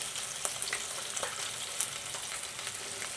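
Bacon and egg frying in a pan, a close, continuous hissing sizzle with light scraping and clicks as the food is pushed around, no speech.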